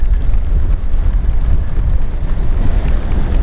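Strong wind buffeting the microphone during bass fishing, a loud, continuous low rumble and roar with no breaks.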